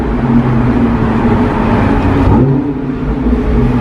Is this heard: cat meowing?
no